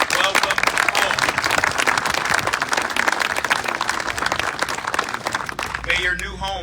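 An outdoor crowd applauds at a ribbon cutting for a housing building at 100 Oak Avenue in Aurora, Illinois, brisk, dense clapping that thins toward the end as a voice begins speaking.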